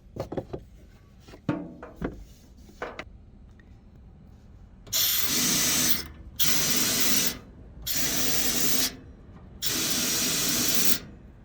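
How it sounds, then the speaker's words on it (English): Compressed air is blasted through a pressure sensor line on a Freightliner Cascadia truck's DOC exhaust system in four loud, sharp hissing bursts, each lasting about a second or more, after a few quieter mechanical clicks and knocks. "We're just gonna use the same compressed air."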